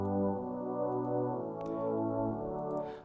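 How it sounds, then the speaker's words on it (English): Sustained string instrument chords from an afrohouse track, a warm layered tone swelling gently with soft filtered movement and light percussive ticks, quiet and alone. "So it's a string. So with the string, you can actually hear the string."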